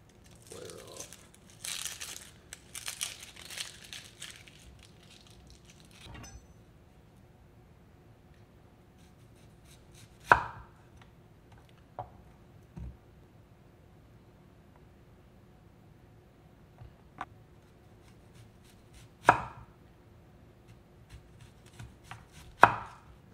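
An onion is sliced on a cutting board with a knife, starting with a quick burst of crisp, crinkly chops, then a quiet stretch broken by a few sharp, isolated knife strikes.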